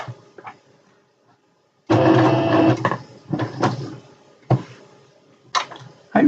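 A sewing machine runs stitches around a circle on a satin drawstring bag, in close, loud bursts of steady whirring with short pauses between them.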